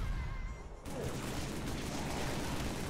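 Gunfire in a modded Halo 3 match: a dense, loud, continuous barrage of shots that erupts after a brief lull and keeps rattling without a break.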